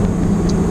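A Porsche 911 Carrera T's exhaust burbles low and steady at idle, a soft, continuous rumble close by with no talk over it.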